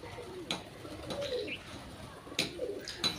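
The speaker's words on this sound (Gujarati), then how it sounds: "તો આ બધા વૈભવ ના પાળેલા હશે કબૂતર" Soft pigeon coos in a quiet outdoor space, with a few sharp clinks and knocks breaking in now and then.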